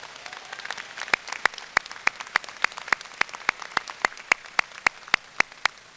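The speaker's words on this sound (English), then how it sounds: "Let's give them a nice round of applause" Steady rhythmic clapping, evenly spaced sharp claps over a soft bed of scattered applause, for community college graduates at a Manchester Community College commencement ceremony.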